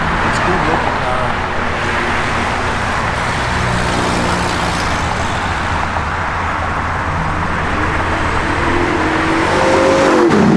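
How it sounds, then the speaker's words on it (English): Cars drag racing on a road, engines revving loudly with a rising whine near the end, a continuous rush of traffic noise throughout. "Drag racing going on out here."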